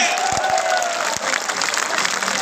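A crowd claps at a BNP political conference in Khulna, applause rising over a loud hall with a voice shouting through it, short and busy.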